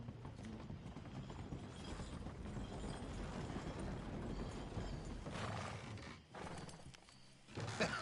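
Horse hooves clip-clopping in Red Dead Redemption, a steady rhythmic clatter of footfalls with faint mechanical rattles, moderately close and continuous.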